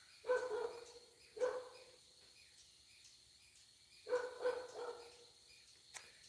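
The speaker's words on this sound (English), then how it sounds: "I wish that dog would stop barking." A dog barks in short bursts in the distance, two pairs of barks separated by a quiet pause, with faint insects chirping in the background.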